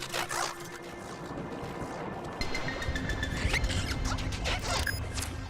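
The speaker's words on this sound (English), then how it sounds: "That is the call of a pobber." A creature call from the pobber, a beast in a video game, heard as a squealing, creaking cry over a murky ambient game soundscape, with a second louder swell partway through.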